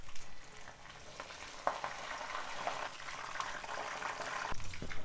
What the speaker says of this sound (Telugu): ఇలా బెండకాయలతో పాటు కరివేపాకు కూడా చక్కగా వేగిపోతుంది